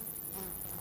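A wild bee buzzes in the open: a steady, close, continuous drone that fills the whole short moment without a break.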